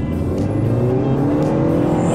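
A Honda Step WGN Modulo X minivan accelerates on a road, its engine and motor note rising steadily under road and tire rumble, heard loudly from inside the cabin with no talking.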